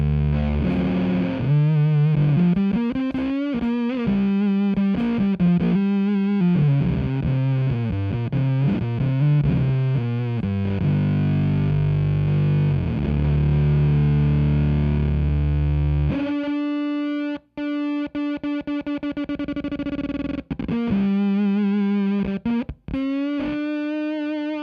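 An electric guitar played through a germanium fuzz pedal warmed on a heating pad sounds loud and distorted, with sliding melodic notes and chords, then sustained fuzzy notes that cut off abruptly under gating.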